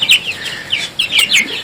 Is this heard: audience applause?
no